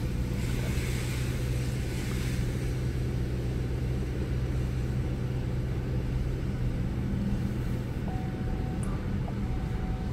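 Low steady engine and road rumble heard from inside a moving car, continuous and moderately loud, with little else over it.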